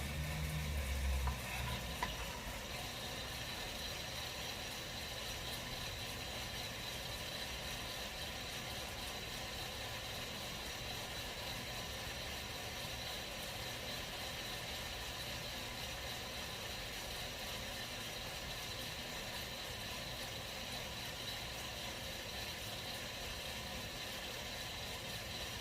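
A Sniper Pro coffee roaster drum rotates while roasting beans, giving a steady mechanical whir and a soft rattling tumble that hold even and unbroken the whole time, with no one speaking.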